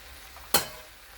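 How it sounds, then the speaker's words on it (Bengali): A single quick scrape of a spoon through a mixed vegetable curry in a pan, sharp and close, set against an otherwise quiet, faintly hissing background. "এবার খুব ভালো করে এটাকে হালকা হালকা করে নেড়ে কষতে হবে।"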